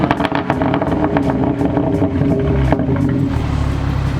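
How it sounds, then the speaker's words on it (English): A stock exhaust on a 2018 BMW 340i with the B58 engine and performance power kit, settled at idle with a steady, loud, close burble and faint pulsing throughout. "that is that pure idle, and this is stock"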